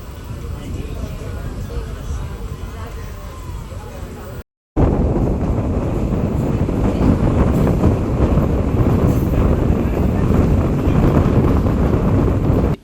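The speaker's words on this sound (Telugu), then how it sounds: "ఒక 5 నిమిషాల ప్రయాణం తర్వాత మన ట్రైన్ తిరిగి బయలుదేరింది" A train pulls out of a station on the Madurai to Rameshwaram line, a loud, continuous rumble with wind buffeting across the whole stretch, cut off by a brief gap partway through before the roar resumes even louder.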